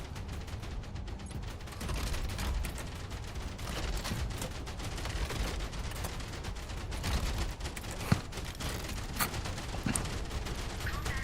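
Machine gun fire in a video game: a dense, steady roar of rapid shots that runs without a break, with a few sharper cracks and mechanical clatter standing out in the mix.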